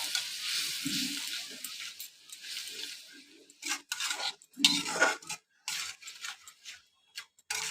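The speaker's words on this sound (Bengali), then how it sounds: "এবার আমি মশলাটাকে ভালো করে কষিয়ে নেব।" Spice paste with chilli powder and a little water stir-fried in a pan, with intermittent scraping and clinks of a utensil against the metal over a faint sizzle, close and without talk.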